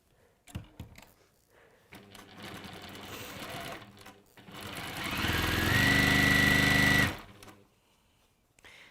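Sewing machine stitching pocket seams, close and clear: short bursts of rapid mechanical whirring, then a longer louder run of several seconds with a high whine before stopping, separated by quiet handling sounds.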